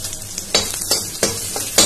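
Chopped green chillies hitting hot oil with reddish fried onions, a close, bright sizzle punctuated by several sharp stirring scrapes in quick succession.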